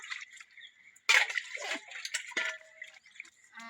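Water splashes and sloshes as items are rinsed in a basin, with intermittent drips and swishes at close range.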